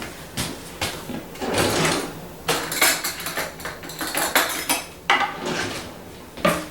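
Someone rummages through a kitchen drawer for a spoon, with cutlery clattering and clinking in quick, close bursts, plus drawer bumps and metal-on-metal chinks throughout.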